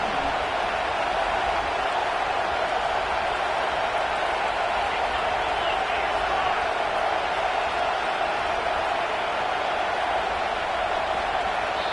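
A packed stadium crowd in the College Football 25 video game roars loud and steady during a third-down play, a dense wall of noise that never lets up.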